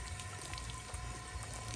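Warm seawater splashes and runs steadily while rinsing feet at the seaside, a continuous close wash of water noise with no talk.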